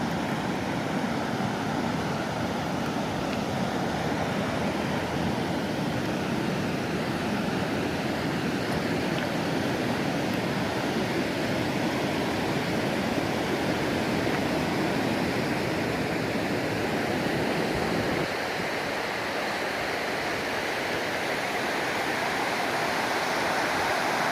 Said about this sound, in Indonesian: Ini kondisi dari Sungai Progo.